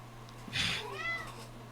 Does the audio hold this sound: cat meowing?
yes